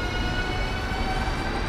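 A Moscow Central Circle train pulls away from a station, a steady, fairly close rolling rumble and hum with faint high tonal whine, without any talking.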